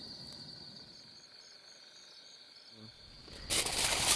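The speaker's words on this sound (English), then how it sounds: "you should be able to hear" Crickets chirp at night near a campfire on an overnight kayak camping trip, a steady high trill held faintly in the background before a brief rustle at the end.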